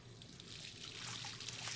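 Tap water running from a faucet in the game Life Is Strange, a soft steady trickling stream holding even for the short stretch, fairly faint and alone.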